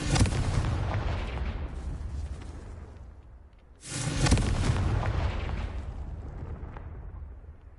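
Two loud fiery spell blasts from the Confringo fire spell in Hogwarts Legacy, each a booming burst that trails off into a rumbling decay, the second striking near the midpoint.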